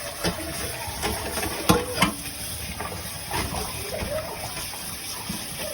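Water splashes and sloshes steadily as vegetables are rinsed and rubbed by hand, with occasional clunks, close by and without speech.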